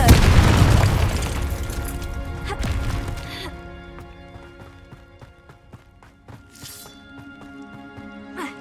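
A Confringo fire spell blasts in Hogwarts Legacy with a loud, booming explosion up front, then a rumbling, crackling tail over a music bed that slowly fades.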